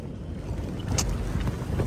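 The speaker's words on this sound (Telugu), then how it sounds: "గాలి సౌండ్ మాత్రం మామూలుగా అయితే లేదు." Strong wind buffets a camping tent pitched during rain in the Araku hills, a steady broadband roar of gusts and flapping fabric with a brief louder swell midway, close and continuous with no talking.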